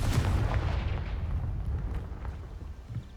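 Confringo fire spell from Hogwarts Legacy bursting with a booming, explosive blast at the start, then fading into a low rumbling tail, with no talking.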